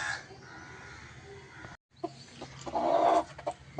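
Hen clucking near her newly hatched chicks on a cloudy rural day, with a short break then louder bird calls and clucks up close.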